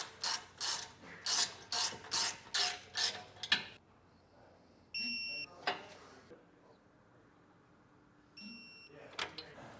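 A ratchet wrench snugs base plate bolts on a 2020 Jeep Cherokee: a quick run of eight loud rhythmic clicks, then quiet shop ambience with two short electronic beeps and a few faint clicks.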